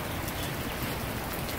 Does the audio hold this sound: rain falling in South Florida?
yes